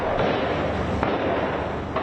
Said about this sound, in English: Gunfire could be heard amid clashes